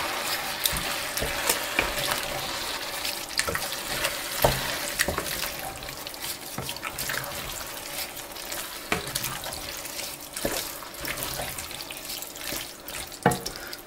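Thick tomato pulp for lasagne being stirred in a pot, giving a steady wet scraping and sloshing with scattered sharp clicks of the spoon against the sides, close by and fairly quiet.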